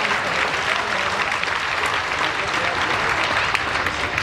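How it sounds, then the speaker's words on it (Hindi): Dense, steady applause from a large audience at a Hindi poetry gathering, the Lal Qila Kavi Sammelan of 2019, fills the air evenly from start to finish without any break. "अगर बात अच्छी लगी हो तो जोरदार ताली बजाइए"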